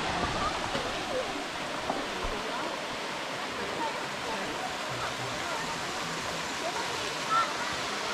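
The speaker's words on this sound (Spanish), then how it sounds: "Son unas cascadas muy preciosas." Waterfalls cascading one after another along a mountain hiking trail give a steady, broadband rushing roar that fills the whole stretch evenly and close by, with no voices over it.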